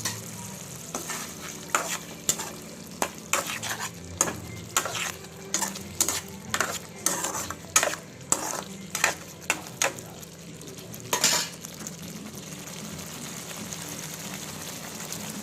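Tomato egg curry frying in a pan, steady sizzle under repeated rhythmic scrapes and knocks of a spoon stirring, close and without speech.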